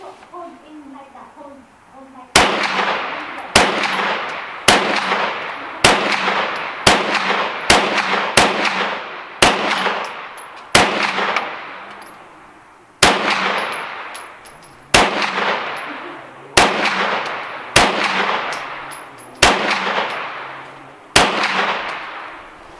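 Sharp, loud gunshots at a shooting range, about sixteen single shots fired at an irregular steady pace, each with a decaying echo. A faint voice murmurs at the start.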